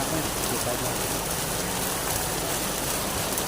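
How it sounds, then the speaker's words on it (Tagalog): Heavy rain pours down outdoors near Sampalok Lake in San Pablo, Laguna, a dense, steady hiss that holds at an even loudness from start to finish with no break. "Ayan, lakas na ulan."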